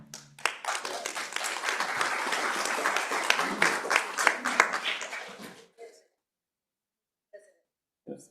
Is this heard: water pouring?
no